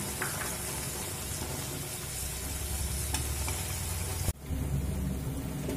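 Pre-fried vegetables go into partly cooked dal in a pan and are stirred, giving a steady loud sizzle with a sharp clatter near the end.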